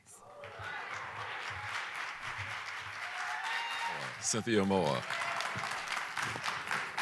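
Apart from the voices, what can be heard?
audience applause for the artists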